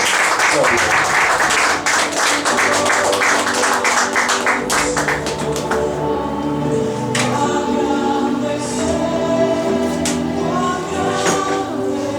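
A church congregation applauds in praise during a Spanish-language worship service, steady dense clapping filling the room for several seconds before thinning out, with voices and music tones running underneath.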